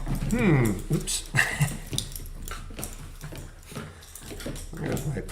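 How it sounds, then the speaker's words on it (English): An excited puppy whimpering and whining in a home trading room, high wavering cries repeated in short bursts near the microphone, alongside snuffling and rustling noises. "There's my puppy."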